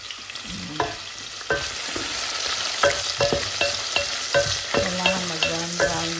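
Onions fry in a pan for beef caldereta, a close sizzle broken by repeated scraping and clinking strokes of a spatula stirring against the pan, roughly one every half second, loud and clear with no talk.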